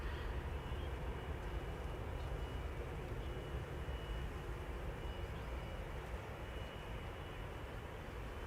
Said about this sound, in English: KLM flight 603 777-200 going to LAX